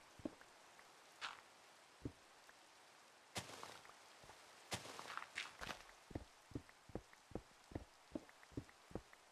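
Minecraft rain during a survival-multiplayer session: faint background patter of rain with a series of sharp, regularly spaced taps and thuds like footsteps, fairly quiet overall, and no one talking.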